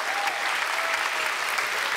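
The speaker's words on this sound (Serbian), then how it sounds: "I hvala vam puno na ovaj burni aplauz." A television studio audience at a singing competition finale bursts into steady, dense applause, loud and continuous across the whole moment with no other sound standing out.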